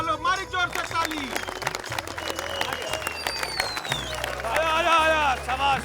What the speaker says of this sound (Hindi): तो वो लोग मारी जोर से ताली।